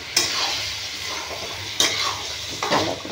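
A village-style curry of cauliflower, egg omelette and potato with coriander leaves is stir-fried in a pan, giving a continuous sizzle with three distinct spatula scrapes against the metal; nobody speaks.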